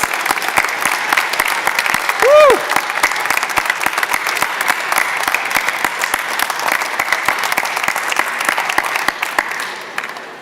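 Graduation audience applauding and cheering in a large hall, steady dense clapping throughout with a brief whistle-like cheer early on, fading near the end.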